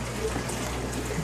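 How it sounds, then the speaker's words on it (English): Water from an airlift pump pours steadily into an aquaponics grow bed, a continuous close splashing rush with a low hum beneath it. "this is my water coming in from the airlift pump."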